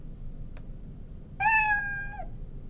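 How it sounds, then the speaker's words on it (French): A single clear cat meow, drawn out and slightly falling at the end, over a quiet low background hum. "ajouter jouer le son miaou."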